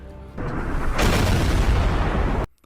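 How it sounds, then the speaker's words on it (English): A cannon blast in an anime battle scene: a long, loud, roaring explosion that swells sharply about a second in, rumbles heavily for over a second, then cuts off abruptly. "Prepare the non-splitterator cannon."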